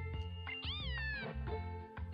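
A short meowing cry of the fire-type starter Pokémon in Pokémon Sun, a clear, close, cat-like rising and falling meow over a quiet game music bed.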